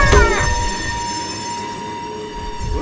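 A train rolls along the tracks at a station platform in a safety cartoon, loud and close, with rumbling wheels and a sustained metallic tone.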